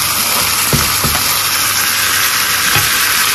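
Chopped tomato fries in a chicken paella pan with a loud, steady sizzle and hiss close up, broken by a few soft stirring knocks, with no voices.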